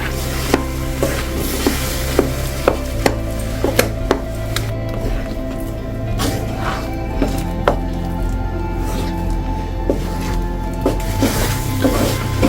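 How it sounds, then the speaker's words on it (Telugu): Lentil paste cooking in jaggery syrup in a pot, with repeated sharp knocks and scrapes of a spoon stirring against the vessel over a low bubbling sizzle, fairly loud and close. "ఈ బెల్లం పాకంలో ఇలా ఉడికిచ్చేసుకుందామండి"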